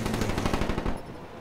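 Rapid-fire automatic gunfire in a video game: a fast, loud burst of evenly spaced shots lasting about a second, then cutting off into quieter game background.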